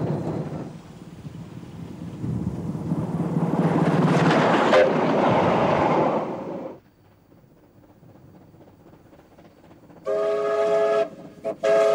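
Queensland Rail locomotive 1079 heads north beneath the Glasshouse Mountains, a loud rumbling, clattering pass that swells for several seconds and then drops away. A sustained multi-tone horn blast sounds near the end.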